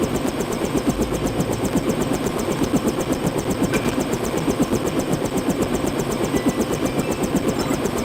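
Video game helicopter with a steady, rapid rotor chop and an engine drone, constant and close throughout with no voices.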